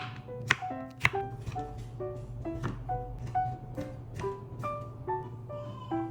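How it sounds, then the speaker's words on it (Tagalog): A small kitchen knife cuts through squash in a series of irregular, soft taps and thuds against a board, close by, with a faint steady hum underneath. "Nahirapan nga din ako sa paghiwa ng kalabasa dahil na din siguro maliit ngayong pinili kong"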